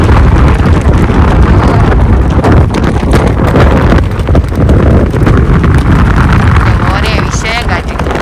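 Strong wind buffets the microphone on the high-altitude Ice Lake trek in the Annapurna region at about 4600 m, a loud, continuous roaring rush with gusting surges throughout.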